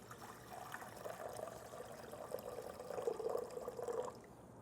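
Warm water from a running faucet trickles and pours into a bowl sitting on a kitchen scale, a soft continuous stream that swells slightly before easing off.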